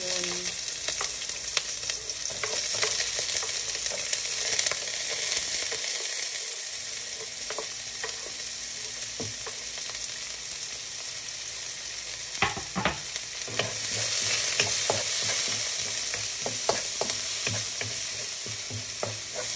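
Onion sizzling steadily in a hot pan while a utensil scrapes and stirs it, a continuous bright hiss with intermittent clinks and scrapes, close and without talk.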